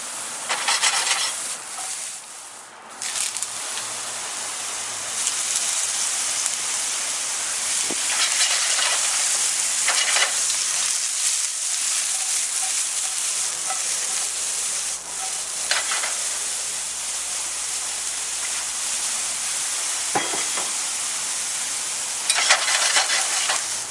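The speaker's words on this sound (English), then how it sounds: "we had our eggplants. It's got a nice hard sear now" Eggplant sears hard in a pan with a continuous hissing sizzle that holds for a long stretch, with occasional scrapes and small shifts in intensity and no talking.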